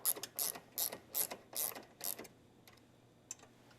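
A hand ratchet clicks in a quick series of about six strokes while tightening down a car part in a garage, close and fairly loud, then a few faint clicks and handling noises after.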